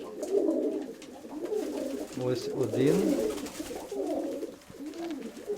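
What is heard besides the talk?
pigeons cooing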